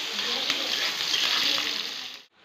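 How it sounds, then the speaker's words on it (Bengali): Onions sizzling in hot oil in a home kitchen pan, a steady loud frying hiss that carries on without a break and then cuts out abruptly near the end. "তেলে পেঁয়াজ দিয়ে দিলাম"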